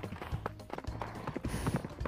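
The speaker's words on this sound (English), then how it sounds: "Come on, horse, run!" Horse hooves galloping in the Horse Simulator VR video game, quick repeated thudding hoofbeats in an uneven running rhythm, fairly close and continuous.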